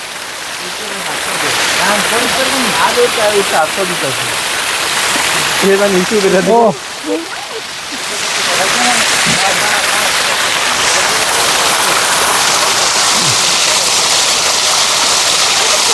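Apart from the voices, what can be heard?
waterfall with clear water at Tanguar Haor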